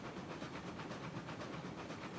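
Steam locomotive rolling along track in Railroads Online, a soft continuous hiss and rumble with a faint repeating pulse of chuffs and wheel clatter, fairly quiet and steady throughout.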